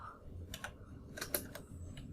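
Computer keyboard being typed on while entering network configuration commands, a few quiet close key clicks in short irregular bursts over a faint hum, with no voices.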